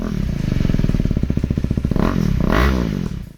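Husqvarna Svartpilen 401 single-cylinder motorcycle engine running close by, a rapid steady firing pulse that swells into a revving rise toward the end, loud and alone.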